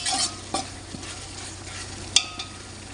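Fenugreek, small shallots, garlic, tomato and curry leaves fry in oil in a pan, a soft steady sizzle punctuated by a few sharp scrapes and clicks of a spoon stirring against the metal.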